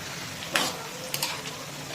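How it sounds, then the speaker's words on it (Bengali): Bottle gourd being stirred with spices in a frying pan for a fish-head lau ghonto, with a few short scraping stirs over a soft, steady sizzle close by. "লাউটা আমরা এর মধ্যে দিলাম, এবারে ওই মশলাটার সাথে দেখুন ভালো করে কিন্তু মিক্স আপ হয়ে গেছে"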